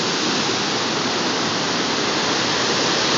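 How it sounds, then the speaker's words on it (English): Rushing water released from a reservoir and swollen by mountain snowmelt roars in a steady, loud, unbroken wash with no voices over it. "There's a lot of water coming from the mountains that's melting from the snow and the ice."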